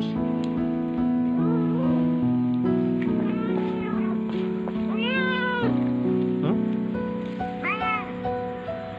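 A thin, hungry orange cat that was dumped at a roadside meows several times in rising, wavering cries, loud and close, over a steady low background hum.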